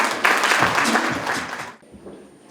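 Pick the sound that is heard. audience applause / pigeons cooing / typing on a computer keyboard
audience applause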